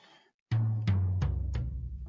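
Four punchy tom drum hits processed with tape saturation land in quick succession with a thick, warm low boom and short decay, followed by a faint fifth hit.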